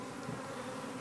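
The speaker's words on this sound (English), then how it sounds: "There's a nice little handful of bees" Honey bees buzz steadily from a small cluster inside a water meter box, a continuous close, even hum with no voices over it.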